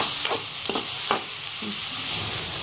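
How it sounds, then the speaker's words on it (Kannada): Chopped onions fry on high flame in a pan, a steady close sizzle broken by a few scraping stirs, with no talking. "ಇದನ್ನ ಹೈ ಫ್ಲೇಮ್ ಒಳಗ ಒಂದ್ ಸ್ವಲ್ಪ ಲೈಟ್ ಗೋಲ್ಡನ್ ಬ್ರೌನ್ ಕಲರ್ ಆಗ್ಬೇಕು ನೋಡ್ರಿ, ಆ ತರ ಫ್ರೈ ಮಾಡ್ಕೊಳ್ಳೋಣ್ರಿ"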